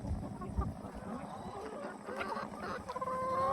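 Hens cluck and murmur close by in a backyard flock kept for eggs, soft irregular calls over light rustling and background noise.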